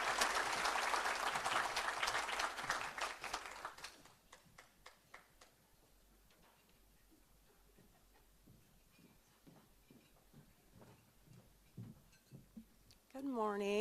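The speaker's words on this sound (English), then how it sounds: "Let's give her a round of applause." An audience at a breakfast talk event claps loudly and warmly, then the applause thins into scattered claps and fades out. A voice briefly begins speaking at the very end.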